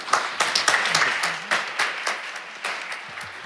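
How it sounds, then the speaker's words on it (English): Applause at a restorative justice community court graduation ceremony, a crowd clapping briskly and unevenly at close range with some voices mixed in. "Once again, a big round of applause"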